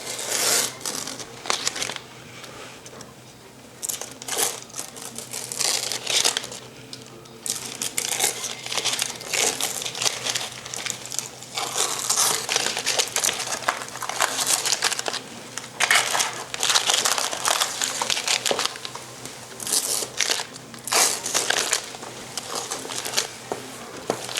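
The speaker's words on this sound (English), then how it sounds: "I can go ahead and start pulling this tape out" Tape is peeled from a freshly cut plaster design, producing steady close crinkling and tearing crackles that continue for the whole stretch without pause or speech.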